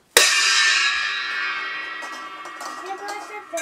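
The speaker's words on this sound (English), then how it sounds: "And the cymbals." A single cymbal crash struck loudly, its bright shimmering ring sustaining and slowly decaying over several seconds while faint voices murmur underneath.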